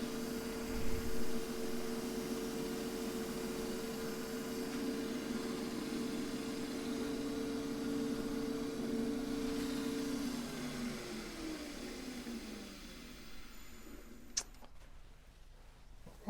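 A wood lathe turning handles for a pair of thread chasers hums steadily at a constant pitch, then winds down and slows to a stop near the end, with a light tick after it.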